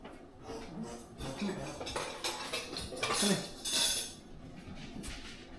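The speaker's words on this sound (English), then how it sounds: "let me find a spatula" Metal kitchen utensils clatter and clink as someone rummages through them for a spatula, a busy jangle of cutlery and pans that swells to its loudest bursts near the middle, close and alone.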